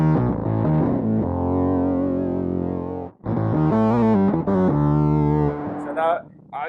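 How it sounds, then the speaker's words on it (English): A lower-octave synth sound runs through distortion and fuzz effects on a guitarist's gear rig, loud and buzzing with thick sustained tones, broken by a brief gap before it resumes and fades. "my lower octave synth sound, which goes through distortion to distort that, and then my higher signal I'm sending to my fuzz"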